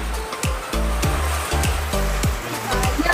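Water pours through a leaking corrugated metal roof: a steady rushing wash of water with repeated hollow drips and plops landing every fraction of a second, close and fairly loud.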